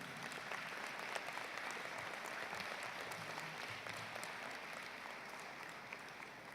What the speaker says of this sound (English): So a big, big applause for Bangladesh people.